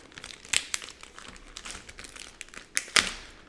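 A small plastic bag crinkling as contents are taken out of a trading card box, close and dry, with a few sharper crackles among softer rustling and no talk.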